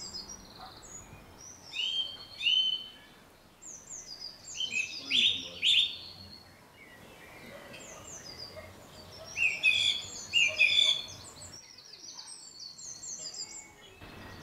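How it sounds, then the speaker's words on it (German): Songbirds chirp and trill in bursts over a soft outdoor background in spring, with several bright calls standing out near the listener and quieter phrases between them. "Schnuffel, der Frühling kommt richtig in Gang mit Hummelgebrumme und Vogelgesang."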